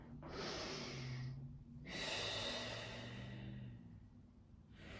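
Deep, slow breaths during a Pilates stretch: two long, airy exhalations close to the microphone, each followed by a softer inhale, with no talking.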